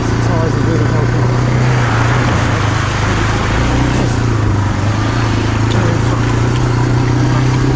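Beta Alp 4.0 motorcycle riding off-road through muddy puddles, its engine a loud, steady drone throughout with wind and splashing texture, close to the rider.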